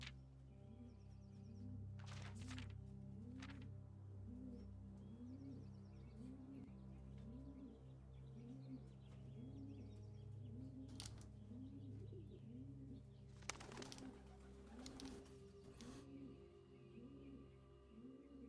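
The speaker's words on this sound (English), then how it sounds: "the bird noises were bugging me" Pigeon coos from a Blue Prince video game level repeat in a steady rhythm, about two per second, over a low ambient hum, with a few brief louder bursts mixed in.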